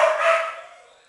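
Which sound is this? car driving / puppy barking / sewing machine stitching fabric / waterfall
puppy barking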